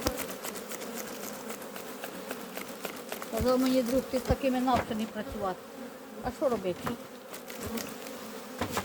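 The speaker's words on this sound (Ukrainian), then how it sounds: "Море бджоли, море." A dense swarm of honeybees hums steadily around an open apiary hive in May while frames are handled, the buzzing loud and continuous beneath someone talking close by.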